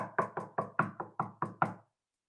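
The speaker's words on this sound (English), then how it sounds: "A second knock at the door." A series of eight firm knocks on a door in an even, steady rhythm, close and clear, with no voices, then silence.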